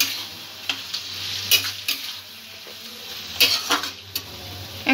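Noodle ingredients are stirred and mixed in a hot pan for crispy noodles, with an ongoing sizzle broken by irregular scraping and clinking strokes of the utensil against the pan, close and without talk.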